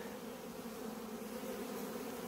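A honeybee swarm housed in a hive since mid-July hums with a dense, steady drone of many wings, continuous and even throughout, fairly faint and without voices.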